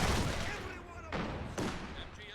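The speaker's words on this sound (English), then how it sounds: "Nice rifle nade, well dodged though." A rifle grenade blast in the strategy game Company of Heroes 2, heard as a dense rumble of booms and gunfire with two sharper thuds, loud and continuous under a voice talking over the action.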